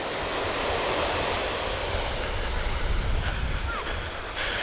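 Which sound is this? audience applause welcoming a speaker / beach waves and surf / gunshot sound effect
beach waves and surf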